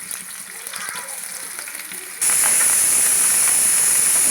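One large onion with green chillies and curry leaves frying in about three tablespoons of oil for a chicken fry, a loud close sizzle that jumps sharply louder partway through and then holds steady, no talking.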